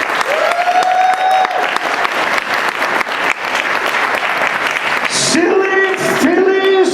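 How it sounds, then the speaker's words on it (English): Audience at a media expo closing ceremony applauds loudly and steadily, dense continuous clapping filling the room, with a few cheers and voices rising near the end. "Give yourselves a round of applause."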